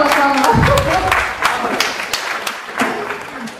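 An audience at a lecture breaks into applause for a man, with steady, dense clapping that builds briefly and then gradually thins out.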